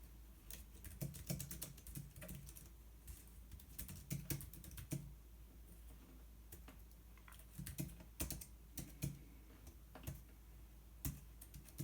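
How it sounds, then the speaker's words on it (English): Touch typing on a Jelly Comb folding Bluetooth keyboard, with quiet, quick clicky keystrokes coming in uneven bursts and short pauses, close and without talk. "as you guys can see, I do touch typing, and I was making a few mistakes"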